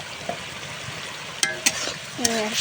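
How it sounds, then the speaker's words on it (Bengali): Tilapia and taro curry being sautéed and stirred in a pan, a continuous sizzle with a few sharp utensil clinks and scrapes against the pan, near and fairly even in level. "এটা ভালোভাবে কষিয়ে নিচ্ছি"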